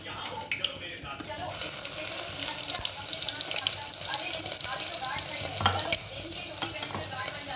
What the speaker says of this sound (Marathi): तेल गरम झालेलं आहे। मी यात जिरे मोहरी टाकून घेणार आहे।